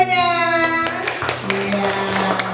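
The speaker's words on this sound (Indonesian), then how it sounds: "tepuk tangan dulu untuk videonya." A class of children claps hands along with a classroom lesson, a few sharp claps rising over a sustained electronic tone and speech-like voices.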